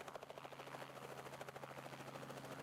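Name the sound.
blue helicopter taking off into the air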